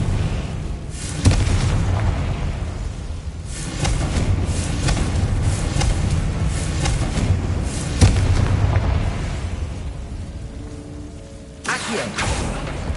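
Confringo fire spell explosions in Hogwarts Legacy, several booming blasts, a sharp one near the start and more at intervals over a sustained rumbling bed of game noise, ending in a fresh burst.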